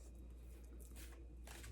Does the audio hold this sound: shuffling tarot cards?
yes